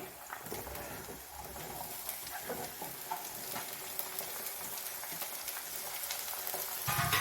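Cauliflower frying with onions in a pan, giving a faint, continuous sizzle with light stirring scrapes throughout.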